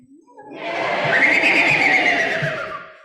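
A person imitates a horse's neigh, a single long, loud, wavering whinny that rises and then trails off.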